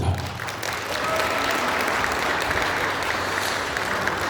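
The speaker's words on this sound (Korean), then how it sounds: "박수 부탁드리겠습니다." A crowd at a Korean book launch event gives sustained, dense applause, a loud even wash of many clapping hands with faint voices underneath, holding steady throughout.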